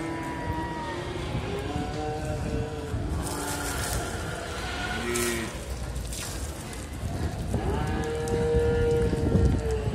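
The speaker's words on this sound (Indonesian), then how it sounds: "ini ada sapi limosin cross juga yang lagi mandi atau sedang dimandikan." Limousin cross cattle being bathed at a livestock market in Magelang, with repeated mooing calls over a noisy crowded background of splashing and chatter.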